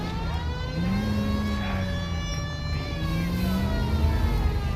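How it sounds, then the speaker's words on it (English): A wailing siren in the video game L.A. Noire rises and falls steadily, loud and continuous over a rumbling engine-like background, with no voices. "you hear the siren, don't ya?"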